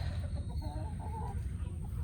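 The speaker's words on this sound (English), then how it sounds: "Chickens, am I right?" Chickens cluck softly in a backyard garden, a few short throaty calls close by over a low steady background hum.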